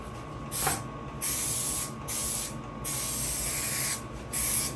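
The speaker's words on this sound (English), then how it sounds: "Spray that bit first, so you get a covering over it." An aerosol can sprays in several short hissing bursts, each about a second long, close and loud, separated by brief pauses, coating a car dashboard.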